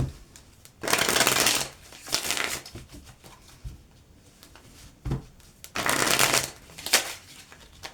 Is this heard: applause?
no